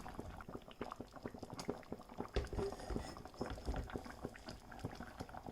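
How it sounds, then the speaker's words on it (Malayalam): Seer fish head curry bubbling in a pot over a medium flame, with a steady, close run of busy popping bubbles and no voices. "നമ്മുടെ കറി ഒരു 5 മിനിറ്റും കൂടെ ഒരു മീഡിയം ഫ്ലെയിമിലൊക്കെ ഇരുന്ന് ഇങ്ങനെ ഒന്ന് തിളച്ചൊന്ന് വറ്റി വരട്ടെ."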